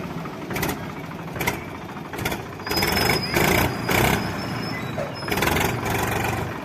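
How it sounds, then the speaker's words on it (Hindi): A second-hand Mahindra B 275 DI tractor, about three years old, runs with a steady rumbling engine. Its loudness surges every second or so, and no voices come through over the noise. "आपण माने सुनी पारथिबे ट्रैक्टर रो साउंड"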